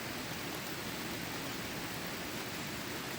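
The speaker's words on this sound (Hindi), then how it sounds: "बारिश की बूंदें आ गई जोर जोर से।" Heavy rain falls in a forest as a steady, even hiss of drops, quite faint and unbroken throughout, with no voices.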